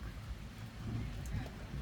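Heavy rain falls steadily through a continuous broadband hiss with a low rumble, and faint voices are heard beneath it, outdoors near a temple in Thailand.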